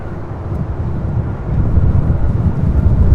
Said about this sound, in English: This is Air Tahiti Nui Flight 8 coming in from Papeete on a 787-9 Dreamliner.